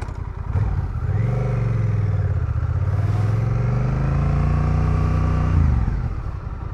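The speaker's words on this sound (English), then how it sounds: "Let's get it on the road and let's find out." Honda Rebel 1100 motorcycle riding on the road, a loud, steady engine drone that rises in pitch and holds as the bike pulls away and cruises, then eases off at the end.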